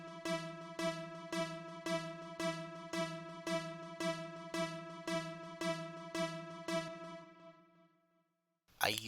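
A bright synthesizer in an Amapiano track repeats a steady, evenly pulsed tone about twice per second, ringing with rich overtones before fading out.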